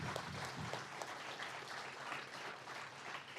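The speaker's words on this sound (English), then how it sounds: "Can we give them another round of applause?" An audience at an Indigenous delegation's AGM event applauds in a steady, dense wash of clapping that runs the whole time, faint and distant-sounding, with no speech over it.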